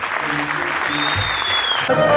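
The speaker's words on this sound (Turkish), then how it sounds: "Biz de size alkışlıyoruz." A crowd applauds continuously at a municipal event in Karaköprü, Turkey, with some tonal music or sound ringing through the clapping.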